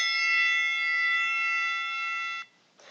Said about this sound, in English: The bell will sound like this.